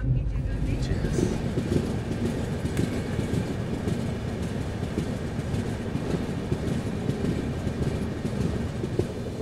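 Seemanchal Express passenger train running, heard from inside a crowded carriage as a loud, continuous rumble with rattling and faint rhythmic clatter, and a murmur of voices underneath.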